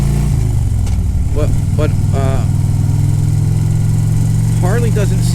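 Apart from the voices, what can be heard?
Harley-Davidson motorcycle engine running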